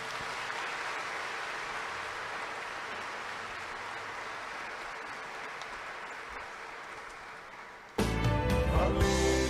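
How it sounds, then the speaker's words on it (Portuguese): A church congregation claps steadily in applause for Saint Joseph during a novena service, a sustained wash of hands that fades slightly before a sudden burst of loud music cuts in near the end. "Para São José, uma salva de palmas."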